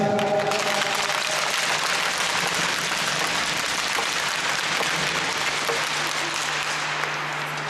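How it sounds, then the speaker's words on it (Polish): Steady audience applause fills the room at a Krynica sports event, the Czerkawski Cup, a dense even wash of clapping holding at full strength throughout with no voices on top. "Brawa, bardzo proszę."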